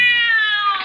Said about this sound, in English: Clary watched in silent fascination as the cat screamed and leaped against the wall.